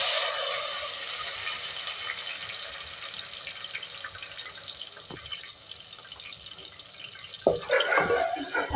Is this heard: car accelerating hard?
no